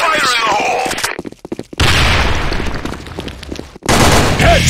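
Grenade blast followed by rapid bursts of gunfire in a shooter video game, loud and close, with abrupt cuts between a game voice callout and the barrage of shots.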